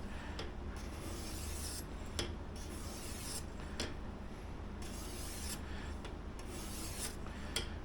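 Knife blade drawn across a sharpening stone in steady, repeated rasping strokes, a quiet close scraping with slight pauses between passes and no talk.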